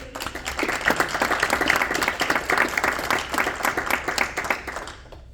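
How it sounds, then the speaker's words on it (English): An audience at a village town hall meeting claps for students, a steady burst of dense applause that holds for several seconds before tapering off at the end. "give a round of applause to these great students"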